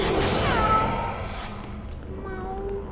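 A pet cat companion in the online game Blade and Soul gives a drawn-out meow, then a second shorter mew, close and clear over faint game background sound.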